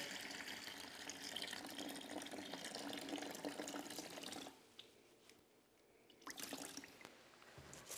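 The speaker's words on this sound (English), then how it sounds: "And ready to pour out the water." Cloudy rice-washing water pours out of a cooking pot in a steady, splashing stream for several seconds, then thins to quieter trickles and a few final splashes.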